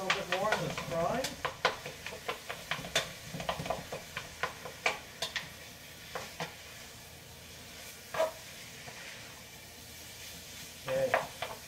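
Ground beef and onion get chopped and stirred in a sizzling frying pan for sloppy joes, with a steady fry hiss under a string of sharp spatula scrapes and taps against the pan.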